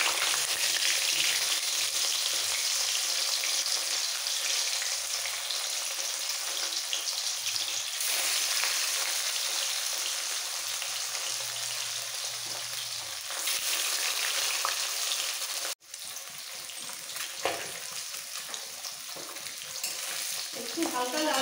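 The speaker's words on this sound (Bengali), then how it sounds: "তেল ভালোভাবে গরম হয়ে যাওয়ার পর মাছগুলো আমি ছেড়ে দিচ্ছি, নুন হলুদ মাখানো।" Salt-and-turmeric-rubbed katla fish frying in hot mustard oil in a wok, a loud, steady sizzle with crackling spatter running throughout, briefly dipping near the end, with no talk.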